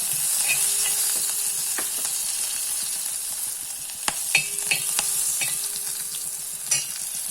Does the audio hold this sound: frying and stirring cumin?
yes